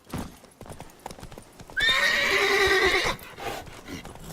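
Roach, the horse in The Witcher 3, clip-clops along in uneven hoofbeats, then lets out a loud, drawn-out neigh lasting over a second before the hooves carry on; game ambience sits faintly underneath.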